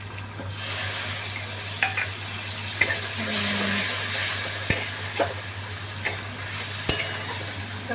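Potatoes and spices fry in oil in a pan with a steady broadband sizzle, joined by occasional sharp clinks and scrapes of a stirring spoon against the pan; no talking.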